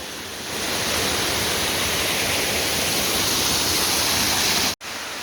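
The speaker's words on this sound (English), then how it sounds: "that waterfall is still hard to reach, but you can see that it cascades down from the upper falls quite a ways" A waterfall in the Middle Prong Wilderness cascades down from the upper falls, producing a loud, steady broadband roar that holds constant, with a sharp momentary break near the end.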